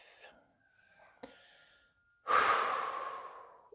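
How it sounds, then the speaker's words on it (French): Slow, deep exhale during a sophrology meditation, a long breathy rush of air at close range that swells suddenly and fades gradually, preceded by faint soft breaths. "chaque respiration est l'occasion de libérer en soufflant"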